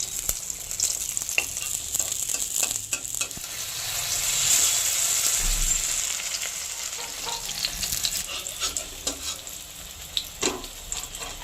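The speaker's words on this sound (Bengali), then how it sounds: "এরকম লাল লাল করে সব কটা আমি ভেজে নেব।" Ash gourd slices coated in rice paste fry in oil until reddish, giving a constant crackling sizzle with intermittent scrapes and taps from turning the pieces, swelling briefly midway.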